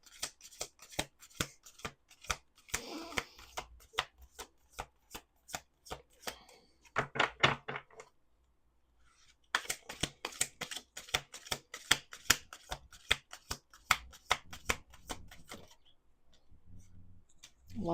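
A deck of tarot cards is shuffled over and over, making soft, rapid clicking and flicking bursts with one brief pause midway, quiet and close with no talking.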